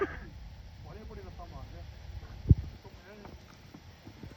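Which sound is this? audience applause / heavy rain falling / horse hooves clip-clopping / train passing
horse hooves clip-clopping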